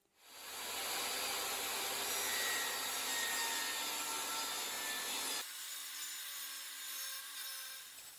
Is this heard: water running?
no